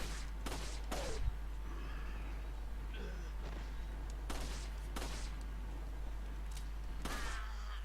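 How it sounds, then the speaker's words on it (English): Gunfire in Resident Evil 4 played on the Yuzu Switch emulator, several separate sharp shots fired at irregular intervals over a low steady hum, fairly faint. "I'm shooting crazy because it doesn't really matter."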